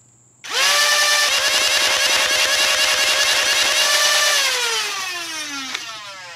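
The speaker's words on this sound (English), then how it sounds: "Just listen to how fast the fangs rev back up to max RPM once the drum is empty." FANG flywheel motors in a Rapid Strike foam blaster spin up abruptly to a loud, high-pitched whine with a fast rattling pulse underneath, hold steady for several seconds, then wind down as the pitch drops.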